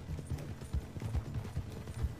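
Rhythmic hoofbeats of a horse galloping at a quick, even clip in the video game Red Dead Redemption 2, fairly faint and close, with a soft background hum.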